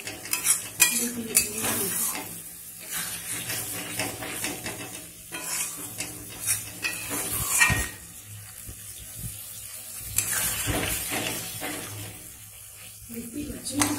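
Chicken rezala, a white Bengali chicken curry, is stirred in a pan, with soft scraping and intermittent spoon-against-pan clinks over a quiet bubbling simmer, a faint voice speaking now and then.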